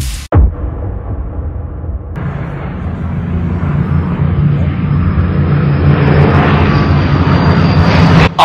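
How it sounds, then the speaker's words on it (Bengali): A US B-29 bomber's piston engines drone in flight, a loud, steady, rumbling roar that swells slightly after an abrupt thump at the start. "US B-29 বোমারু বিমান লিটল বয়কে ফেলে দিয়ে নিশ্চিন্তে নিরাপদ আশ্রয়ে ফিরে যাচ্ছে"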